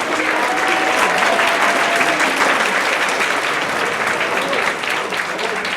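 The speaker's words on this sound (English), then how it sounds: "So let's give everybody a round of applause." A large school rally crowd at Northampton-area high school claps loudly for Olympian alpine skiers, a dense sustained roar of applause lasting several seconds, easing slightly at the end.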